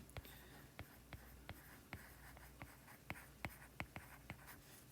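Marker or chalk writing on a board in a physics lecture on Newton's laws, made of quick squeaky taps and strokes in an uneven rhythm, quiet against a steady room hum.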